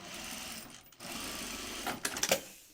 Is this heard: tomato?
no